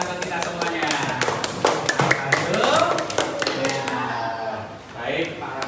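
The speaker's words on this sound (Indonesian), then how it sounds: "tepuk tangan untuk kita semuanya" Students in a fourth-grade classroom clap their hands together in a brisk, scattered burst of claps, close and steady, while a voice talks over the clapping.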